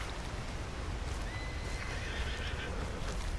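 A horse in Red Dead Redemption 2 gives one drawn-out whinny, fairly faint over a dense bed of ambient noise.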